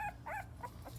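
Pit bull puppy from a litter giving short, high whimpers and yips, a few faint cries in quick succession, close by with a low background hum and no talk.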